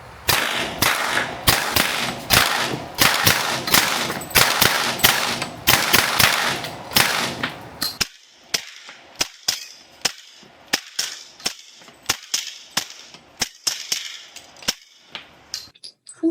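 A suppressed Smith & Wesson M&P FPC carbine fires .40 S&W rounds in a rapid string of sharp, muffled reports, then a slower, spaced series of single shots, close and loud with no talking.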